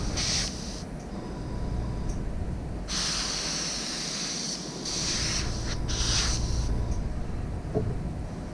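Airbrush spraying paint onto a minnow-style fishing jig, a close, steady airy hiss that cuts out and restarts in several short bursts over a constant background of compressor noise.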